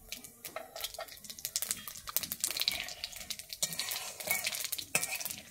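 Whole cumin and ajwain seeds fry in hot oil for a dahi bhindi gravy, crackling and spitting in quick, close pops amid stirring clatter. No one speaks.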